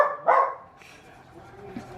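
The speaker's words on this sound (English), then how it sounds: "hear my doggy" A pet dog gives a couple of short, sharp barks in a quiet room, loudest at the start and followed by a fainter yip, with a low household hush behind.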